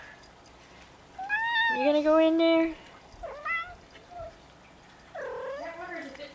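Young kittens about three weeks old meow in a string of rising, whiny cries, loudest early on and returning near the end, close by and mixed with a person talking.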